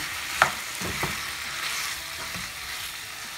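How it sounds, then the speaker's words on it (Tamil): Pepper chicken stirred in a pan right after salt goes in, with a soft steady sizzle and a couple of sharp spoon scrapes early on, close and alone. "உப்பு சேர்த்துட்டு இதை வந்து நல்லா மிக்ஸ் பண்ணி விட்டுக்கலாம்"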